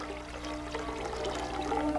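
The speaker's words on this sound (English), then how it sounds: "A second bowl is placed on top of the cylinder and filled with cold water" Cold water poured into a bowl set atop a wooden cylinder used for distilling fermented mare's milk, a continuous soft splashing and trickling pour at moderate distance.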